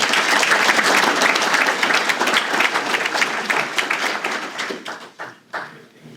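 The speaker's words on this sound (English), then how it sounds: "let's give them a little round of applause" A room full of people at a historical society spring gathering breaks into steady applause, dense and close at first, then thinning into scattered individual claps as it fades out.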